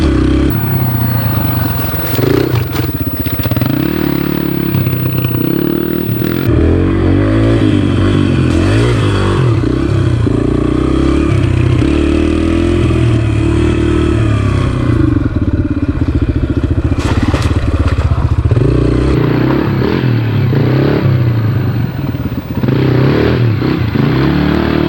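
A Yamaha TTR 125 dirt bike engine runs loud and close throughout the ride, revving up and down with changing pitch, while clattering and scraping from the bike moving over the ground come through.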